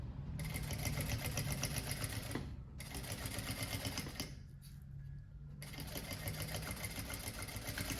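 Sewing machine backstitching through the lining of a tote bag with a printed synthetic panel, a steady close rapid stitching whir in three runs broken by two short pauses, with no talk.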